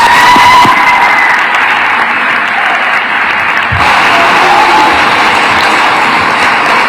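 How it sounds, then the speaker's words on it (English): Loud, dense crowd applause at a Florida event on protecting youth, a continuous close wash of clapping that holds steady for the full stretch with a short dip midway. "Can we give them another round of applause, please?"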